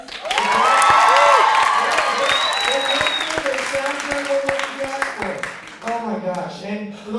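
A studio audience applauds the band during the opening of a comedy talk show, with loud sustained clapping, cheering and whoops that build and then slowly taper, under the host's voice and mixed with crowd shouts.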